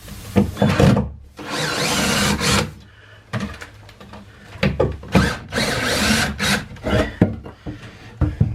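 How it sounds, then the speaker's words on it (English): Power drill boring into a wooden board during a cargo trailer camper build, several bursts of whining grinding with short pauses between, close and fairly loud, no talking. "Now we'll be able to drill that hole right where we want her."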